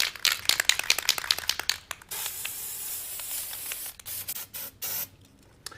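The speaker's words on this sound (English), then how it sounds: "So we're going to use Design Master Red Spray Glitter." Short hissing bursts from a can of red spray glitter, a rapid series of spritzes followed by a few longer sustained sprays with brief pauses, close to the microphone.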